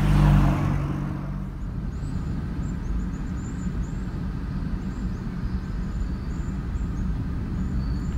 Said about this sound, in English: I'm in the way, so I better get out of the way for this car.